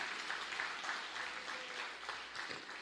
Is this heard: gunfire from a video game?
no